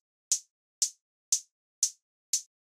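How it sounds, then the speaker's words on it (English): A synthesized hi-hat built from white noise ticks five times at a steady pace, each a short, bright, crisp burst with a quick decay, quiet and isolated. "So then the next thing we have here is a synth hi-hat, which sounds like this."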